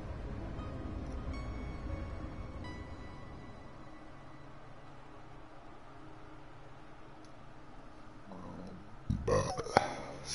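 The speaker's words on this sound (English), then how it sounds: "Dr. Pepper burp." A person lets out a burp after drinking Dr Pepper, a short, rough, low burst near the end of the stretch, following a long run of steady low background noise.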